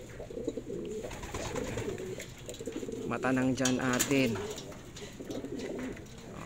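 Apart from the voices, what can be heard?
pigeon cooing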